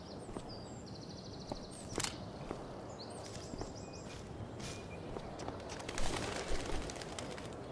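A bird coos and calls in the game Life is Strange Before the Storm, with short repeated notes scattered over a soft outdoor ambience and a few faint thumps, with no talk.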